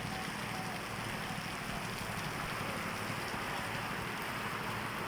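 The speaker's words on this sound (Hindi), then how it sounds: "कितना तेज़ बारिश हो रहा है।" Heavy rain pours steadily on a flooded road, a dense, loud, unbroken hiss of water with no pauses.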